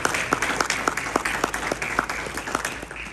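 Audience at a business forum in Worcester applauds steadily, many hands clapping in a dense, continuous wash with sharper individual claps standing out, fairly close and loud throughout.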